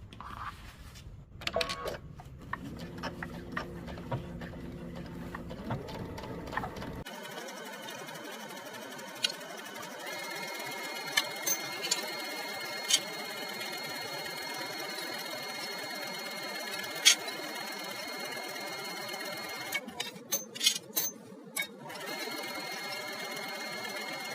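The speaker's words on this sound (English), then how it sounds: "we'll go ahead and take it to the machine and stitch it all the way around" A home sewing machine stitches two pinned fabric pieces together in a quiet room, with a steady, faint mechanical whir and occasional clicks and taps that stop and restart in short bursts.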